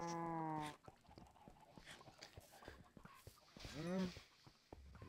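Minecraft sheep bleats twice, a wavering cry at the start and another near the end, with quieter game sounds and faint background noise in between.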